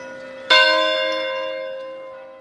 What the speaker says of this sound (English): the 3 churches in town are going to be ringing their bells